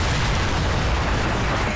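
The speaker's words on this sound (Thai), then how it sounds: "ให้ภูเขาไฟระเบิดเลยเอ้า" Cartoon volcano eruption effect from the animated series Chowder: a dense, steady roar of rumbling blast noise that fills the whole moment at full loudness, with no speech.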